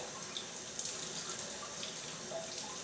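Cold tap water streams steadily from a faucet over a glass bottle during a bottle-cutting hot-cold process, a soft, continuous hiss and splash at close range with no talking.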